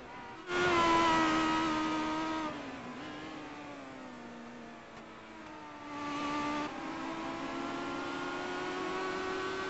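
A race car engine revving on track, loud and close, with a sustained rising and falling drone as the car accelerates, eases briefly, then pulls hard again through the lap.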